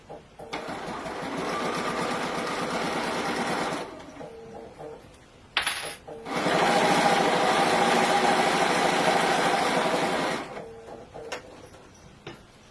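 A Bernina sewing machine stitches in two long, steady runs of close, even whirring, separated by a short pause with a brief clatter, and no one talks.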